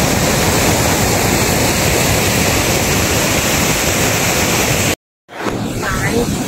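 Steady roar of a waterfall in Odisha fills most of the clip, loud and continuous, broken by a brief dropout before the rushing water resumes.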